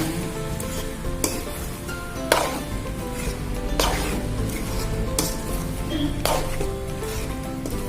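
Macaroni pasta is stir-fried in a pan after sautéing, giving a steady close sizzle throughout, broken by occasional scraping clatters of the spoon against the pan, with no voices.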